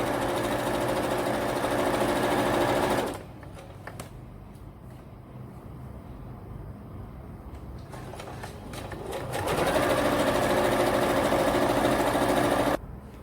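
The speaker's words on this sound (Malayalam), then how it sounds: "1/2 ഇഞ്ച് സീമിങ് അലവൻസ് ഇട്ട് നമുക്ക് തയ്ച്ചെടുക്കാം" A sewing machine runs stitching the lining of a fabric basket: a steady close motor whir for about three seconds, a quieter stretch, then the whirring stitching picks up again, with no voices.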